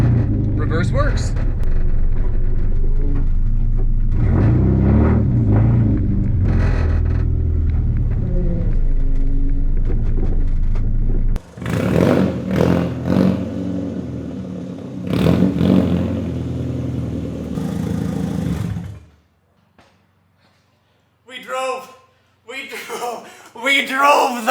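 A Nissan 240SX with a freshly rebuilt engine idles and rumbles loudly while being tested in reverse, then shuts off. Someone talks over it, followed by brief voices in near silence.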